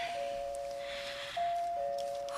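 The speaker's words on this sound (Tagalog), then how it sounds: "Mo-doorbell na ko." A steady electronic doorbell tone rings continuously, shifting slightly in pitch partway through, over a faint background hum.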